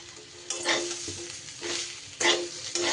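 Fried potatoes and ivy gourd land in oil with onion and spices, sizzling gently while a utensil stirs and scrapes the pan in several close, uneven bursts.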